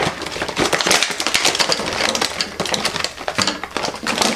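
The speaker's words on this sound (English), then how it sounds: "It's one of those really hard to open plastic packages that you need scissors for." A hard plastic blister package being handled and opened, giving dense, close, crackling clicks and taps in quick irregular bursts with no talking.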